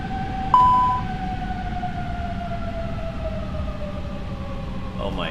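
Simulated Airbus A330 engines in X-Plane 12 hold a continuous whining hum, with tones slowly sliding downward over a steady rushing roar and a brief sharper beep early on.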